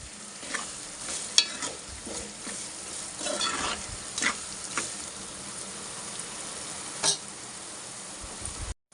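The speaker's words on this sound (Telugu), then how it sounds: "ఇలా నూనెలో వేయించుకొని ఇప్పుడు ఇందులో చేప ముక్కలు వేసుకుందాం" Fish pieces coated in ginger garlic paste fry in hot oil, a steady bright sizzle with several sharp stirring scrapes and clacks, close and loud, with no voices.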